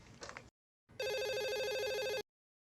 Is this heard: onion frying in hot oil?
no